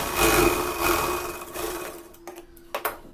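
A simple sewing machine stitches a blouse strip with a close, rapid mechanical whirr that slows and fades, ending in a few short clicks.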